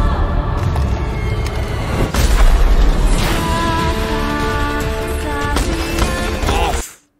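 The RX weapon in Rainbow Six Siege fires loud, booming, crackling shots that ring out in a dense burst, then cut off abruptly into silence at the end.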